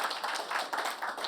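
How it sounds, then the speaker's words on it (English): Applause from a trade show audience at NAB 2015 welcoming a Blackmagic presenter, a dense steady patter of many hands clapping at moderate level throughout, with no talk. "give her a warm round of applause"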